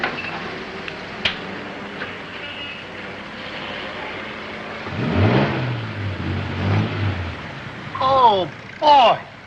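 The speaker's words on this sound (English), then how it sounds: "Listen to that engine purr." A car engine runs steadily and then revs up in a few rising surges near the end, heard over background noise in an old comedy scene.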